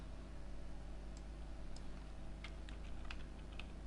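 Faint scattered keystrokes on a computer keyboard while Java code is typed in IntelliJ IDEA, sparse clicks against a steady low hum and background hiss, growing busier toward the end.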